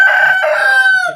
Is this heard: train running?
no